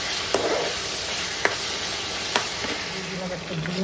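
Meat frying in a pan over high flame, continuous sizzle with occasional sharp clicks of a spatula against the pan, steady and close.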